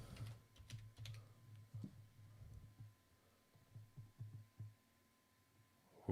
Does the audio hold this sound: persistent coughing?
no